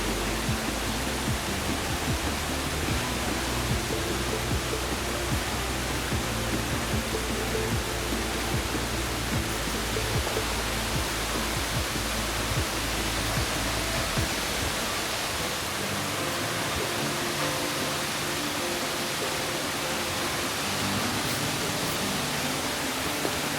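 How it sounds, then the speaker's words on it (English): Wli Waterfall in West Africa roaring as a steady, dense wash of falling water, loud and unbroken for the whole stretch, heard close with no talk. "Welcome to Wli Waterfall."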